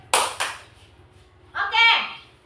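Two sharp claps ring out in a classroom concentration-clap routine, then a voice speaks briefly; the claps are close and distinct, separated by a short pause before the speech.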